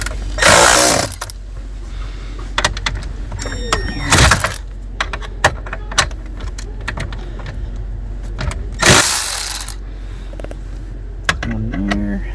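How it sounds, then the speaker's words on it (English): A ratchet works loose bolts on a 2006 Ford F-250 with a 6.0 diesel, giving quick clicking bursts and metallic clacks between louder whirring spins, close up, with someone talking in between. "Helps if you have the ratchet going the right way."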